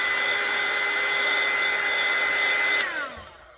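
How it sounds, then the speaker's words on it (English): A heat gun blows steadily while drying layers on a puppet head, a loud continuous whirring roar with a fan whine, then winding down as it is switched off near the end. "I'm going to dry it with the heat gun in between layers"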